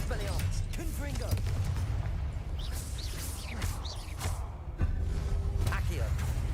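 Repeated Confringo blasting spells in Hogwarts Legacy, sharp bursts and booms that arrive at irregular intervals over a steady rumble of combat noise, with voices and effects mixed in.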